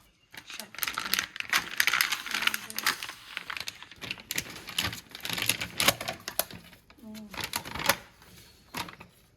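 Thin polythene bags crinkle and rustle repeatedly at close range as they are handled for packing fish at a market, with people talking throughout.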